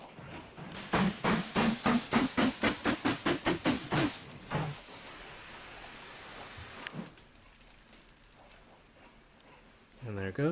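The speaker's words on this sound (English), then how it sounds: "Just gonna have to wait for this log train to get out of here." A steam log train in the Mashinky game chuffs in a fast, loud series of rhythmic puffs, then lets out a long hiss of steam before fading to quiet background.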